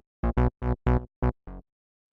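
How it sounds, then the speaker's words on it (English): An analog synth bass plays short, punchy root notes of the chords, six evenly spaced plucked hits with a warm, round low end, dry and alone, ending in silence. "this is just a bass, like a synth bass that I made with analog, just playing the root notes of the chords"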